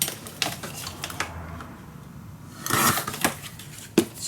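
Paper being cut for a scrapbook mini album, with soft snipping and rustling handling sounds at close range in a quiet room.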